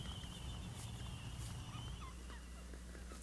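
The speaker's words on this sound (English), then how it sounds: "Every fall, thousands of goonies fly to an island to nest." Gooney birds call at a crowded island nesting colony, a steady layered din of many squawks and whistling cries at moderate distance, with no talk.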